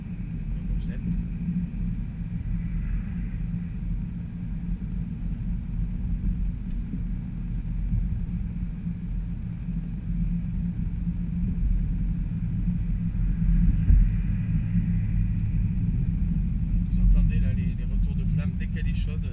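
A 2018 Audi RS5 in dynamic mode gives off a steady, loud low engine rumble while driving through town, holding a constant drone with slight swells toward the end and no voices over it.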